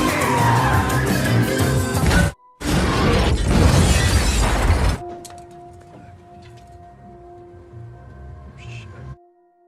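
A car in a film scene skids and crashes, rolling over: loud tire screech, scraping and shattering impacts up close, then a sudden cut to a quiet hum with faint distant clatter.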